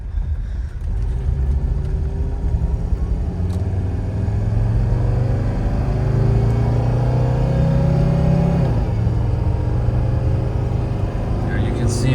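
A 1984 Mercedes 300D diesel car accelerates hard up a highway on-ramp, its engine droning loudly and rising in pitch through gear changes, a steady close rumble filling the cabin.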